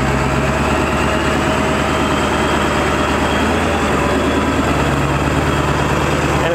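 An OBS Ford PowerStroke diesel truck climbing a hill off-road, its engine a steady, loud, unbroken drone with a low rumble and a constant hum from nearby.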